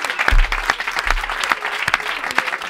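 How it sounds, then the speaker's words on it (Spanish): A studio audience applauds for a bride, loud close clapping mixed with scattered cheers and a few low thumps, steady across the whole stretch. "Un aplauso para la novia"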